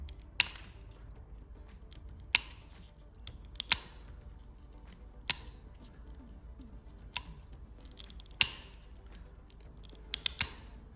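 Mosaic glass pieces are nibbled into a round shape with cutting nippers, giving sharp isolated snaps spaced a second or two apart, close up and with no talking.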